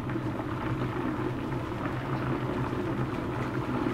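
A Bosch TWK8612P electric kettle reaches a rolling boil, giving off a steady, dense bubbling and hissing rumble that holds at an even level throughout, with no talk over it.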